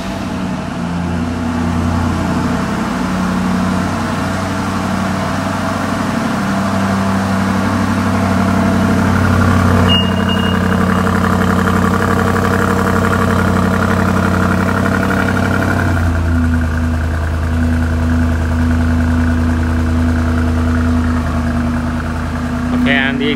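A 2021 BMW X7 M50i, G07 generation, is remote-started and settles into a steady low idle, with a voice talking over the engine throughout.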